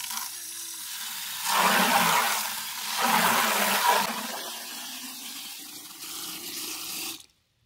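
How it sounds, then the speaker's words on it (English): Water runs steadily into a 5-gallon bucket holding calcium nitrate for a hydroponic nutrient mix, a close, loud gushing that swells and churns twice as it is stirred, then cuts off abruptly. "I'm just taking a 5-gallon bucket and putting my calcium nitrate into it, filling it up about halfway and stirring"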